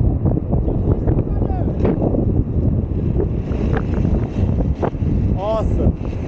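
Strong wind buffets the microphone while skateboarding downhill in Cape Town, a constant low roar under people talking.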